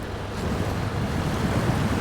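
A shallow stream in the off-road truck game SnowRunner splashes and rushes in a steady, loud wash of water noise as a vehicle fords it, with no talking.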